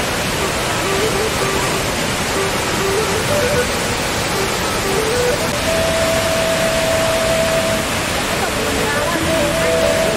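Ban Gioc Waterfall, a large multi-tiered falls, roars with a steady broadband rush of water that never lets up, with faint tonal whistles and voices mixed into the background.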